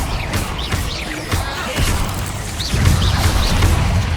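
Explosive Bombarda and Confringo spell blasts in the Hogwarts Legacy video game, a series of booming bursts and crashing impacts spread through the clip, growing heavier toward the end.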